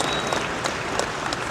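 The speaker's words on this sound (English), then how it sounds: "Another big round of applause," Crowd applause at the Barrett-Jackson car show in Scottsdale, Arizona, as a custom 1966 Corvette is presented: a short burst of steady clapping from a large audience, with a few sharper claps standing out near the front.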